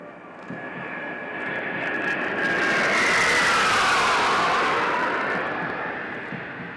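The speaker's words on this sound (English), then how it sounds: "you can see the Su-30 aircrafts approaching the parade ground, bidding farewell to the passing out course" Su-30 jet aircraft sweeping over a military academy parade ground during a passing-out parade, a broad roaring engine rush that swells to a peak mid-clip and slowly fades, with no voices.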